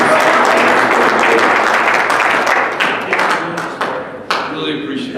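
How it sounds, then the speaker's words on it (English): An audience at a public Q&A on a proposed Colorado Springs sports and events center breaks into loud, dense applause that holds steady and then thins out toward the end. "Can we give him a big round of applause?"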